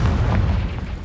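A Confringo blasting curse explodes in the Hogwarts Legacy video game: one loud, close, booming blast with a rumbling tail filling the whole second.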